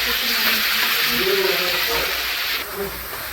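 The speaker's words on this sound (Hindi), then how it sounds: "सारे मसाले को मैंने अच्छे से भून लिया है" Spices for a Bengali potato curry (aloo dum) fry in a pan with a loud, continuous sizzling hiss that eases off near the end, while a faint voice murmurs underneath.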